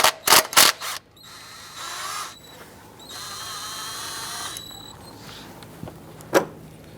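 Ratchet wrench working 10mm thermostat housing bolts on a Jeep Grand Cherokee, with a few sharp close clicks followed by stretches of buzzy whirring and a final click, fairly quiet.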